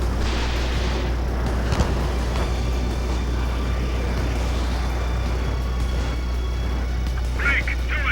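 Missile launch during an aerial dogfight in Ace Combat 7, a sharp burst over a constant loud jet engine roar, with radio chatter from pilots speaking over the action.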